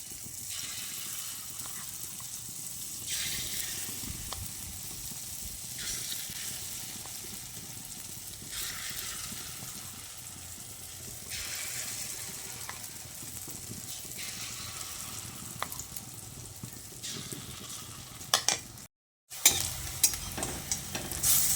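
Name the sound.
moong dal fritters frying in oil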